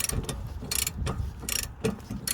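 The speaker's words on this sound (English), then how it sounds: "I'm undoing the higher, or is it heavier torqued carrier bolts. This is a ratcheting breaker bar" Ratcheting breaker bar loosening the heavily torqued rear brake carrier bolts on a 2004 Honda Civic 1.7 CTDi, giving several bursts of loud, close metallic clicking separated by short pauses.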